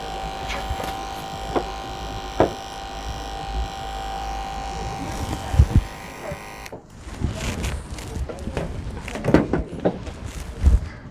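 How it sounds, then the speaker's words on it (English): Electric razor shaving skin closely during clinical prep, a steady close buzzing hum that cuts off partway, followed by brushing and rustling handling sounds. "I'm just going to make sure that that is shaved particularly close"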